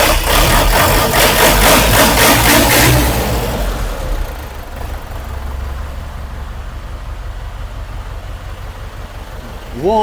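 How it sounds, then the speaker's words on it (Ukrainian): A Fighter T-404 CRD 40 hp mini tractor's diesel engine revs hard at first, then settles into a steady, low idle that rumbles on close by. "Двигун класично працює."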